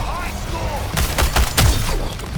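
A big gun firing in Suicide Squad: Kill the Justice League, a few heavy, sharp shots in quick succession over game sound, loud and close.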